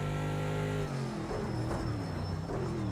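A Bentley Continental GT3 race car at Bathurst in Project CARS 2, its engine droning loud and steady, then shifting gear and climbing again as it accelerates, with no talk over it.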